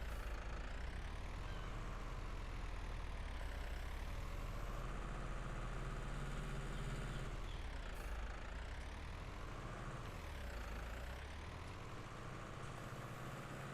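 Tractor engine in Farming Simulator 19 running steadily, a deep continuous drone with slowly rising and falling revs, loud and close with no talking over it.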